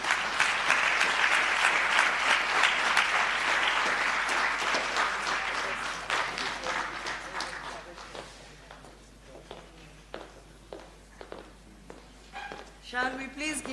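An audience at a memorial lecture applauds a speaker with loud, dense clapping that gradually thins into scattered claps and fades out.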